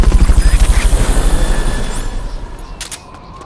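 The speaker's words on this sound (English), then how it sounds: "Fulton recovery subject confirmed onboard helicopter." Fulton recovery helicopter in the video game Metal Gear Solid: Peace Walker, its rotor thumping in a loud, fast steady pulse that gradually fades and thins out over a few seconds.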